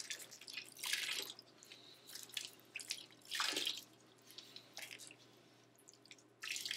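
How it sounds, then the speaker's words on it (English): Water drips and splashes in irregular bursts as hand-dyed yarn is drained in a pan, a quiet, close sequence of wet spatters separated by low background hum. "You're really draining that water out."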